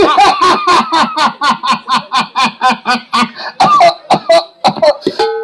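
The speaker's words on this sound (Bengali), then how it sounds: "কাশিটা বড্ড বাড়িছে।" A run of loud, close, rapid coughs in a rhythmic series, with a few voiced throaty bursts near the end, performed during a children's stage play.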